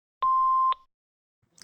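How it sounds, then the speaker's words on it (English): A single answering machine beep: one steady electronic tone lasting about half a second, clean and fairly loud, followed by silence and a faint rustle. "so go ahead and talk after the beep"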